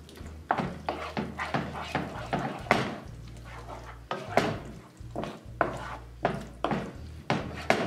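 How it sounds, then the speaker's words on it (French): A dented, warped frying pan clatters and scrapes as a vegan mushroom and walnut roast mixture is stirred, giving irregular close metallic knocks and scrapes over a low steady hum. "désolée pour le bruit de la poêle."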